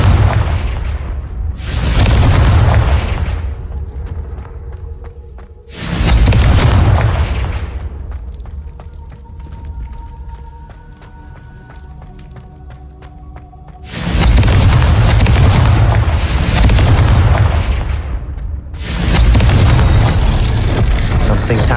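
Confringo fire spell blasts in Hogwarts Legacy, four heavy booming explosions each swelling and rolling off over a couple of seconds, with quieter game ambience between the bursts.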